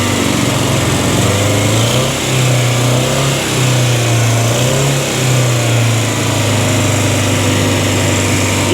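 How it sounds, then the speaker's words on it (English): Misfiring car engine with a low-compression dead cylinder, idling and revving briefly, with an exhaust leak at the donut gasket on the catalytic converter collector; steady close, rough buzzing drone with a wavering low note. "that exhaust leak down there, that's the donut gasket at the cat converter collector"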